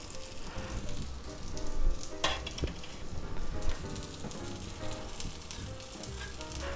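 A breakfast patty and onions frying in a pan, a dense crackling sizzle that stays fairly quiet and steady, with a couple of brief clinks, and nobody speaking.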